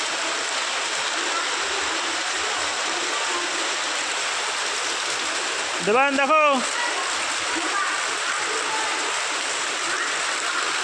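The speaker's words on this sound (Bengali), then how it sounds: "ভীষণ বৃষ্টি হচ্ছে।" Heavy rain pouring down in a dense, steady roar, with a short spoken call over it midway.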